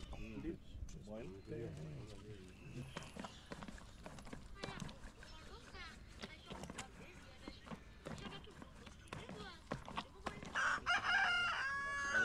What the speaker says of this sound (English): what was that random ass chicken noise? Like, oh, there's actual chicken.